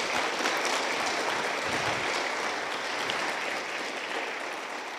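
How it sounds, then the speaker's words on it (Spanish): A church congregation applauds in a sustained wash of clapping, even and fairly distant, tapering slightly toward the end with no voices on top. "Dele palmas a Jesús."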